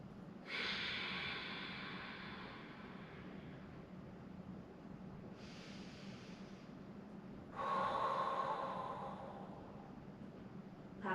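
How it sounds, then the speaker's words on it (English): Deep breaths during a barre core and back workout stretch, three long airy exhales in sequence, close and fairly soft, with quiet room tone between them and no talking. "3 big breaths here."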